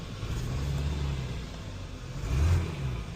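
A car engine running rough, up close: a low, uneven rumble that swells slightly near the end, with no voices.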